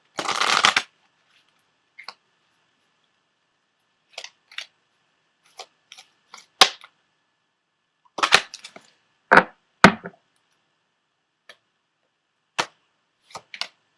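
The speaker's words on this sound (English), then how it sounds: "go ahead and set your intentions for this as I shuffle." Tarot cards are shuffled in a quick burst, followed by scattered sharp snaps and riffles of cards at irregular intervals, close and otherwise quiet.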